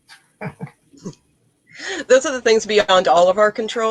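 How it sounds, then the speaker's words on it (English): Dog barking and yipping over a voice, with short sharp barks at first, then a dense run of rapid, high, whining yips and cries close to the microphone while he keeps talking. "You may hear a barking dog"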